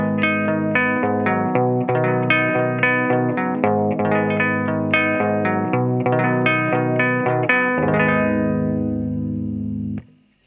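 Electric guitar with strings muted by a soft hair tie placed on the bridge, playing a steady run of dampened, effect-processed notes for about ten seconds before stopping abruptly; no talking.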